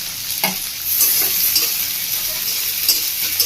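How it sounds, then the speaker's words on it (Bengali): Ginger and garlic frying in a pan for a fish-roe snack, a steady close sizzle with stirring scrapes and clinks of a spoon against the pan. "ভালো করে একটু ভাজবো।"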